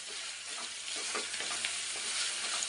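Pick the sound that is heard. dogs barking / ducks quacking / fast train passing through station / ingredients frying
ingredients frying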